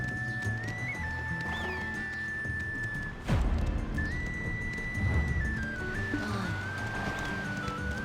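A horse just bought in the online game Black Desert Online, with hoofbeats clip-clopping along and a whinny, set against steady game music and a sharp crash near the midpoint.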